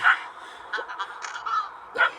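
Several harsh crow caws from the video game Little Kitty, Big City ring out at intervals, moderately loud and spaced irregularly, with a faint dog-like bark mixed in.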